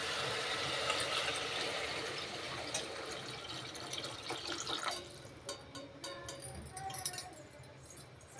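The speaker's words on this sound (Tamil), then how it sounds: "தண்ணி சேர்த்துக்கோங்க." Water is poured into a pot while chicken biryani is being made, a steady close rush of filling liquid that tapers off into scattered drips and small clinks, with no voices.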